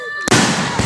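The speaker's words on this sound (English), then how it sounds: "I don't even know what kind of fireworks they were." A firework bursts with a sudden loud crack and a broad, roaring blast that trails into crackling, heard close and outdoors after a brief moment of quieter background.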